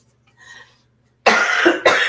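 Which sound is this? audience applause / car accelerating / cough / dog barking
cough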